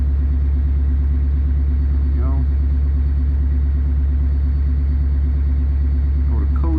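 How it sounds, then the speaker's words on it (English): A diesel truck engine runs at high idle while warming up on a cold start, giving a steady, loud, close-up rumble with no change in pace and faint background sounds over it. "You can actually hear it, it's in high idle right now,"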